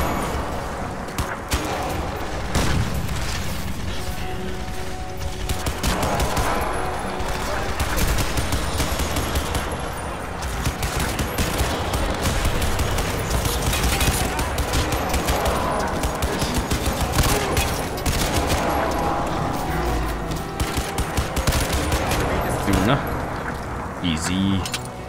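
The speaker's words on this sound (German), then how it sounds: "Dieses schwere MG ist einfach nur super." Heavy stationary machine gun in Crysis 2 Remastered fires in sustained dense bursts throughout, loud and continuous, with someone talking over the gunfire.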